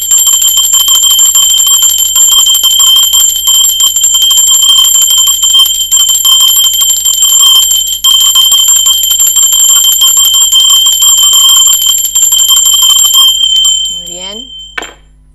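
A bell rings with a bright, sustained metallic tone that stays loud and steady for about thirteen seconds before fading. A faint voice briefly speaks at the end.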